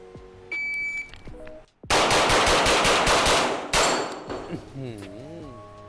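A JP Enterprises GMR-15 rifle fires on an indoor range at 18 metres, two loud bursts of rapid shots with ringing metallic clangs, separated by beeps and electronic tones.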